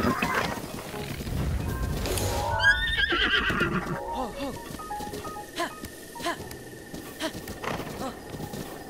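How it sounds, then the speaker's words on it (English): A horse in the video game The Legend of Zelda: Breath of the Wild whinnies loudly in a long rising-and-falling neigh, followed by hoof clops and game sounds, with someone talking over part of it. "This horse is already listening to me, which is pretty good."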